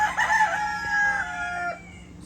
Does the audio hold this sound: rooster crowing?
yes